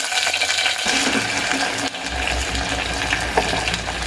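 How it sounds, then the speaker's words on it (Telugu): Pieces of jackfruit, boiled beforehand, drop into hot oil and deep-fry with a loud, dense, continuous sizzle, with bubbling and stirring noises shifting partway through and no one speaking. "సో ఈ ముక్కలు మనం ఉడికించుకుందాం నూనెలో."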